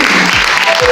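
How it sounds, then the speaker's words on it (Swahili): A crowd at a children's home gathering breaks into brief, loud, dense applause, a continuous wash of clapping with a faint voice briefly underneath. "Situwapige makofi mazuri."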